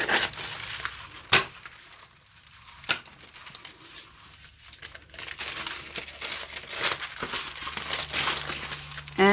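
Baking paper being trimmed down the middle and handled, giving close crinkling and rustling with scattered sharp crackles and a few louder snaps.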